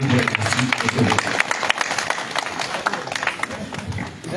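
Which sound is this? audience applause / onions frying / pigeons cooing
audience applause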